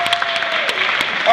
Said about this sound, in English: Give them a really good round of applause.